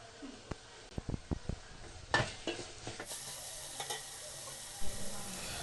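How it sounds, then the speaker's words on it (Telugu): Chili powder, turmeric and salt are stirred into sambar in a pot, with a spoon scraping and tapping several times against the pot over a steady sizzle, close and moderately loud. "ఇప్పుడు మూత తీసి ఇందులో 2 టేబుల్ స్పూన్ చిల్లీ పౌడర్, పసుపు మరియు తగినంత ఉప్పును వేసి బాగా కలుపుకోవాలి."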